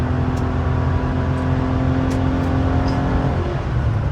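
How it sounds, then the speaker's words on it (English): A Porsche 993 Carrera 2S engine revs hard near 5,000 RPM in fourth gear on a track, with the Vari-O-Ram intake opening up, a loud, steady, close drone with a sustained tone that holds throughout. "And you can hear the Vari-O-Ram open at high RPMs."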